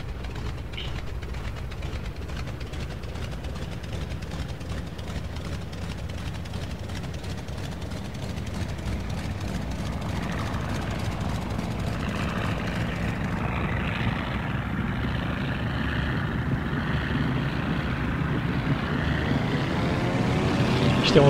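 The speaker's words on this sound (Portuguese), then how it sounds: "Podemos descolar aqui de fora." A Boeing Stearman biplane's radial piston engine in the FSX flight simulator, powering up for takeoff: a continuous rough drone that grows steadily louder over the run.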